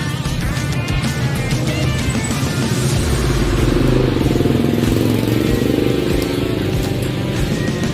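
A vintage 1977 Honda CG110 motorcycle engine runs steadily and loudly up close, a continuous rough, clattering drone with no talk over it.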